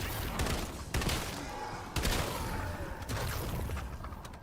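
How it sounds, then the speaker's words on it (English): Shotgun blasts in Call of Duty: Black Ops 7 Zombies on the Paradox Junction map, several sharp booming shots about a second apart over a constant din of game noise and gunfire. "I got my fancy new shotgun I'm trying out."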